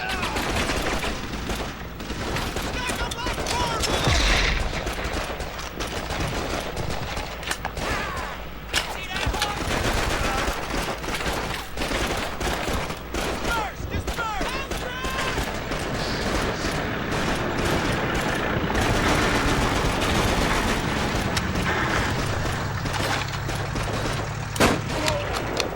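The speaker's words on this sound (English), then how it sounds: "It may seem like a good idea to use the mounted machine gun" A mounted machine gun fires in the World War II shooter Call of Duty 2, with dense, rapid bursts of gunfire and explosions overlapping amid battlefield noise, and voices heard in the mix.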